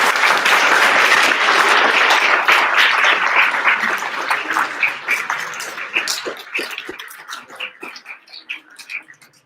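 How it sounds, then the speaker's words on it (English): An audience gives a big round of applause for three artists at an art installation opening, loud sustained clapping that gradually thins out and fades to scattered claps. "One more big round of applause."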